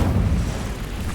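Incendio fire spell cast in the video game Hogwarts Legacy: a deep whooshing, rumbling burst of flame that swells at once and rolls on steadily, loud and close.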